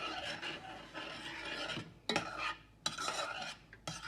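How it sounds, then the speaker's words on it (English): Spoon scraping and stirring rice and pigeon peas in a pot, a rough rasping sound in repeated strokes, close and clear with no talking. "Stir it up."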